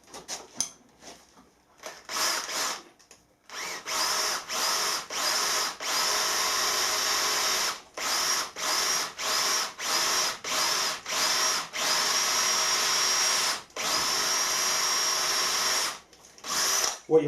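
A cobalt drill bit bores freehand into stainless steel in about a dozen loud, close bursts of high whining grind, each a second or so long, separated by short pauses.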